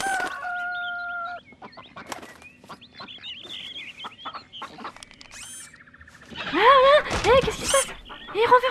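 Farm chickens cluck and a rooster calls, with several squawks and crowing bursts that grow loud and busy toward the end, mixed with other scattered animal sounds and talk.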